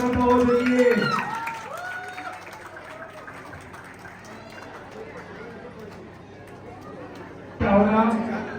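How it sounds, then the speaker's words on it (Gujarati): A crowd applauds to welcome the chief guest at a Shiv Shakti Garba class opening in Ahmedabad. The sustained clapping and chatter start loud, sit under an announcer's amplified voice, and swell again near the end. "તો તાળીઓના ગડગડાટથી તાળીઓનો અવાજ ઓછો ન થવો જોઈએ."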